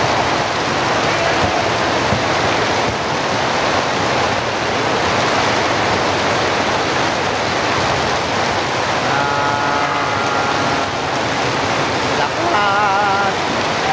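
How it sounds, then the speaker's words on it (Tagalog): Heavy rain pours down in a steady, dense roar, constant and close, with a faint whistle-like tone briefly rising near the end. "Lakas ng ulan."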